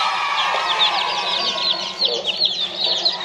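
Gamefarm chicks peep in a dense, high-pitched chorus, many birds calling at once close by, with a little low background noise and no clear speech.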